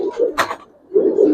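Giribaz coloring pigeons coo softly and close by, two rounded coos separated by a brief quieter gap with a short flutter or knock between them.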